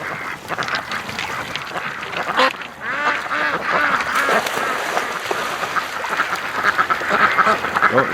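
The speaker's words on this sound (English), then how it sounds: "Oh, actually, we got a little bit of duck sex." Muscovy ducks mating on a lake give off repeated loud, close quacks and squawks that overlap in a lively flurry over outdoor water ambience.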